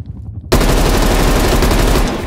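Sudden loud, dense automatic gunfire erupts after a short quiet moment in Call of Duty Black Ops Cold War, a rapid sustained burst aimed at the VIP during a Miami escort match.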